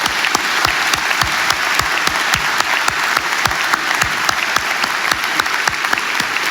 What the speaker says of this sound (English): one more round of applause for the Mayhem family for the inaugural award and his passing